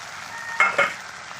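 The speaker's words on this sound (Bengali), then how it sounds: "এবার আমি কুচি করা টমেটো দিয়ে দিচ্ছি কাঁচা টমেটোগুলো" Chopped raw tomatoes hit a hot pan of cooked spice paste for a tilapia curry, two quick, loud sizzling bursts close together over a quiet background.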